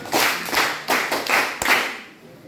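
Clapping for the green team at a school reading competition, a few bursts of group handclaps from students that swell and fade over a couple of seconds, moderately close.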